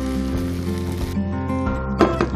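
Dakgalbi chicken meat frying in a hot pan, a steady close sizzle with a hum underneath and a brief louder crackle of stirring near the end.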